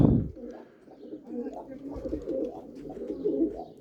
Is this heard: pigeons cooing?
yes